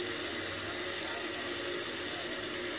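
Tap water runs steadily into a sink to rinse alum off the face after a shave, a continuous close hiss with no voices.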